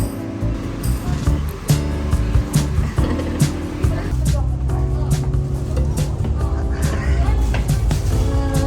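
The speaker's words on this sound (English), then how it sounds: "Double-decker bus." A double-decker bus on a Singapore street rolls past with road rumble and traffic noise and sharp knocks and clatters, loud and close, while people talk nearby.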